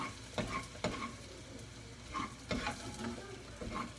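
Food sizzling and smoking in a hot pan, a steady faint crackle broken by a few sharper stirring scrapes and hisses, with no voices.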